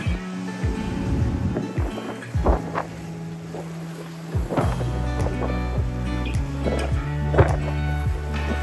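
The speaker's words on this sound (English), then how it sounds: "We plowed our way through the waves, keeping a good distance between us and the rocky coastline." A sailboat plows through rough ocean waves off a rocky lee-shore coastline, its hull slapping and thumping over each swell amid steady wind rush and engine drone, with irregular heavy bursts of spray.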